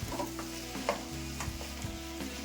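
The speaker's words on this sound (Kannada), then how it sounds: "ಅದುವರೆಗೂ ಚೆನ್ನಾಗಿ ಇದನ್ನು ಫ್ರೈ ಮಾಡ್ಕೋಬೇಕು ಒಗ್ಗರಣೆಯಲ್ಲಿ." Brinjal for a chutney frying in tempering oil makes a soft, steady sizzle close by, with occasional scraping stirs; no speech.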